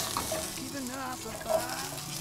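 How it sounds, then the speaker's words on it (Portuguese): Asparagus sizzles in a smoking-hot frying pan, a steady soft crackle with faint tonal blips, heard close and fairly quiet with no speech. "frigideira quente, começou a sair fumaça, a gente vai então trabalhar com o aspargo"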